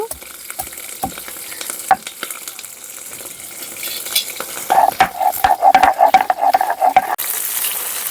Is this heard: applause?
no